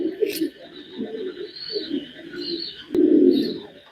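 Domestic pigeons, a young pair of high-quality birds, coo softly in low rounded phrases through the clip, with a louder burst near the end and faint chirps above, while someone talks nearby.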